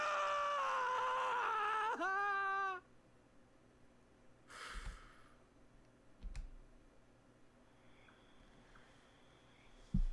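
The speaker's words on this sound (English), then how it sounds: "thanks, Luke, for that anguished cry into the darkness" Anguished scream from the character Luke in the video game The Letter: a loud, sustained, wavering cry lasting nearly three seconds, cutting off abruptly, followed by near-silence broken by a few soft thuds and a brief rustle.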